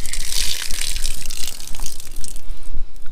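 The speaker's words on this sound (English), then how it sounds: "I'm going to open up this spigot and let off the pressure to the house." Water gushes hard from an opened outdoor spigot as line pressure to a house is released during a PVC pipe repair, a loud steady hissing rush that runs continuously and close by.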